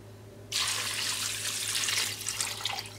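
Cold tap water gushing into a container of beans set to soak for cassoulet, starting abruptly after a moment of quiet and running as a steady close splashing rush, easing slightly near the end.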